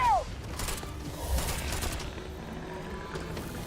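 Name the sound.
gunfire in video game Starfield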